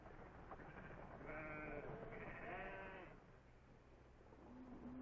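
Sheep on the open Argentine pampas give a couple of wavering bleats close together, faint and slightly muffled over a steady low background hum.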